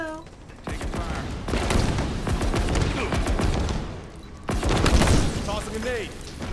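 Rapid gunfire from Halo Infinite multiplayer quick play, dense bursts of shots filling most of the clip with a brief lull before another loud volley, with game voices and effects mixed in.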